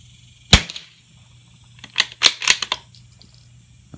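A .22 rifle fires at a match target outdoors, one sharp close crack followed about a second and a half later by a rapid cluster of clicks and metallic clacks as the action is cycled, all against quiet background.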